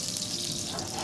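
Cooking oil is poured into a hot non-stick frying pan before a skate wing goes in, giving a brief, steady hiss that sounds like running liquid, with no talk.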